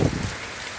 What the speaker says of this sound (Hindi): ये कैमरे पे भी पानी पड़ रहा है।